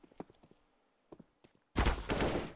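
Gunfire from a Counter-Strike match on the Inferno map bursts in loud and dense, a heavy rapid fusillade after a few quieter thumps and footsteps.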